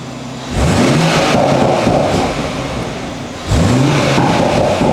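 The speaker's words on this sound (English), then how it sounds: "we've got some pops and bangs" BMW M140i in Sport Plus mode, engine revving hard twice with a rising roar, settling between the blips, and loud crackling exhaust pops, recorded close.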